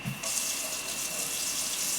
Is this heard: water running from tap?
yes